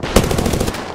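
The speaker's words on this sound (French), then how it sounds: "J'ouvre le feu." Rapid automatic gunfire in the Apex Legends video game, a dense burst of shots for about a second, loud and close with no voices over it.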